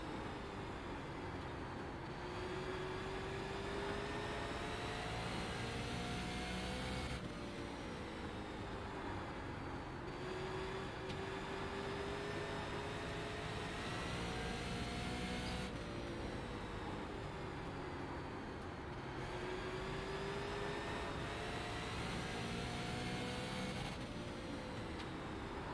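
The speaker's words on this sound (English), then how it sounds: "Love the sound of these engines, man." NASCAR stock cars race at Pocono, their engines roaring loudly in repeated rising and fading passes, a continuous high-revving drone with no talk over it.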